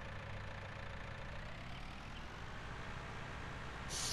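A small diesel tractor engine idles in Farming Simulator 19, a steady low rumble that stays faint and even throughout, with a slight lift at the very end.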